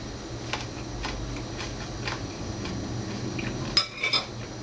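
A spoon clinks and scrapes faintly against a bowl while scooping up broccoli salad, a few soft scattered taps, and a brighter cluster of clicks comes near the end.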